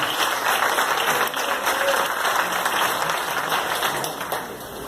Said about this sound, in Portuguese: Se você crê, então aplauda o nome do Senhor Jesus